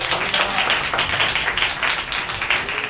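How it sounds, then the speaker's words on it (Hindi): A church congregation claps in a loose, fairly even rhythm, a bright, sustained patter of many hands with no voices over it. "तालियां बजा सकते हैं।"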